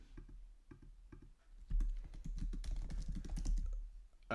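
Someone types on a computer keyboard with rapid close clicking keystrokes, starting in sparse short bursts and then settling into a denser, steady run of taps.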